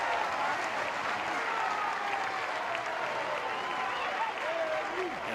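Louisville crowd at an NCAA baseball championship game against Miami cheers and applauds steadily, a dense, distant wash of clapping and shouts filling the stadium throughout.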